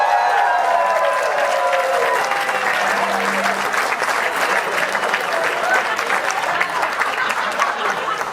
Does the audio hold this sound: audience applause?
yes